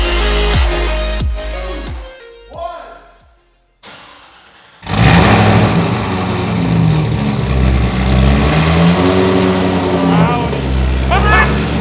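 A car engine with its exhaust revving loudly, a burst of throttle before a brief pause, then sustained rough engine roar with rising and falling revs while people talk nearby.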